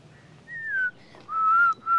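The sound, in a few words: person whistling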